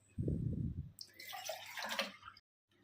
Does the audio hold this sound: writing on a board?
no